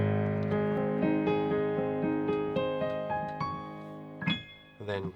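Piano playing the slow final phrase of a song, sustained chords with stepping bass notes ringing together, closing with a couple of quieter touches near the end.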